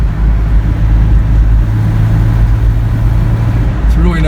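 A 1985 Toyota pickup's engine drones steadily from inside the cab during a test drive in fourth gear, a low constant hum with road noise and someone speaking over it.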